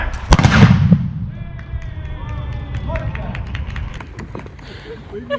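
A single loud, sharp blast from a musket volley fired by costumed soldiers at a colonial-era historic reenactment for King George III's birthday, followed by a crowd murmuring and calling out in the background.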